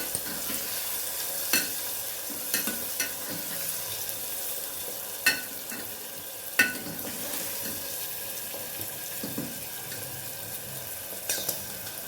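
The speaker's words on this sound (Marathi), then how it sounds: "हे छान परतून घ्यायचे मस्त सर्व मिक्स करायचे" Spices with turmeric sautéing in a pan, a steady low sizzle broken by scattered spoon scrapes and a few sharper clinks against the metal, close and without any talk.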